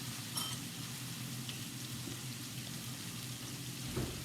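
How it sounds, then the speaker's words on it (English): Turkey Salisbury steaks fry in a pan with a soft, steady crackle and sizzle, quiet and close, a small clatter near the end. "turkey Salisbury steak. Let that cook."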